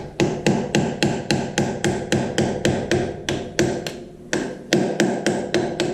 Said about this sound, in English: what I'm going to do is use my brass hammer